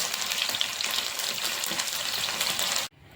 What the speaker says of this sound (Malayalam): ഒരു സൈഡ് ഫ്രൈ ആയി കഴിയുമ്പോൾ നമുക്കിതൊന്ന് മറിച്ചിട്ട് കൊടുക്കാം